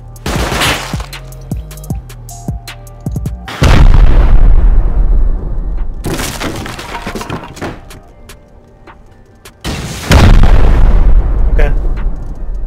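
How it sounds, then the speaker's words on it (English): Rockets launch and explode during a Rust video game raid, with loud booming blasts repeating in a few heavy bursts and rumbling decays, while a player talks between the shots. "Here's some rockets. I'm gonna shoot one in the sky."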